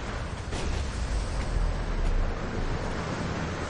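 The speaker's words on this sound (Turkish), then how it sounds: "Bu ne rüzgar böyle?" Steady wind roars through a Tomb Raider (2013) game scene, a dense, continuous rush with slow swells in strength, loud and enveloping, with no voices over it.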